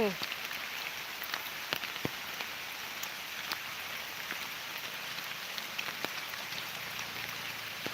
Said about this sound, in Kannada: ಇಷ್ಟು ಜೋರು ಮಳೆ ಈ ರೀತಿಯಾಗಿ ಬರ್ತದೆ ಅಂತ ಎಣಿಸ್ಲೇ ಇಲ್ಲ